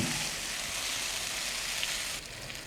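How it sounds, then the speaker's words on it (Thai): Spices, dried red chilies and turmeric fry in oil in a pan for Burmese mohinga, giving a dense, continuous close-up sizzle that eases slightly near the end. "หลังจากที่เราผัดไปเรื่อย จนเครื่องเทศหอม"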